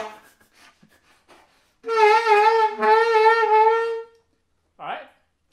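Short saxophone tone, roughly two seconds, bending slightly in pitch as the player lowers the jaw and changes embouchure to produce microtones, followed by a brief vocal fragment, with faint quiet sounds before it.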